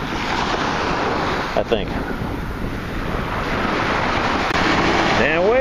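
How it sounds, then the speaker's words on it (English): Ocean waves wash steadily onto a black sand beach, making a loud, continuous surf roar with heavy wind buffeting the microphone, and a brief voice speaks near the middle. "And waves have picked up."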